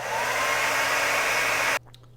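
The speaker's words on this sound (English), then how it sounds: "I'm just going to go ahead and speed this up by using my hair dryer" A hair dryer blows with a steady, loud whooshing roar, then cuts off abruptly near the end, leaving near silence.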